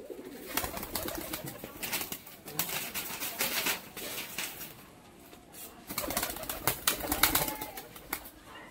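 Tumbler pigeons coo and call close by while bursts of wing flapping rise and fall throughout, with several louder flurries of wingbeats toward the end.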